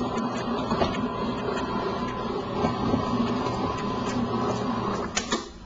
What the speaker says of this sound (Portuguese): Agora vou passar para a segunda velocidade e deixar bater por mais 4 minutos.